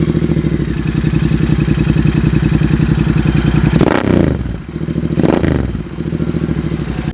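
A modified Royal Enfield Interceptor 650 with a custom silencer idles close by in a steady, thumping burble, broken by two sharp throttle blips that rise and fall back to idle, with no talk.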